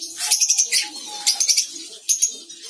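Lovebirds in a colony setup chirp and twitter in quick bursts of high, sharp calls with short pauses between them, close by and fairly loud.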